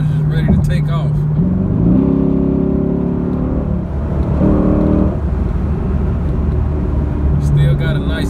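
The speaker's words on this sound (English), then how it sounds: "So when you hit back on that pedal, it's just ready to take off." A Dodge Charger SRT8 fitted with a Pedal Commander accelerates on a highway, its engine rising in pitch through gears with droning revs under steady road and wind noise heard from inside the cabin.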